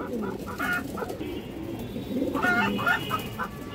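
Female pigeons, brown-necked domestic birds offered for sale, coo and cluck softly close by, a steady low murmur of bird calls filling the space with faint background noise.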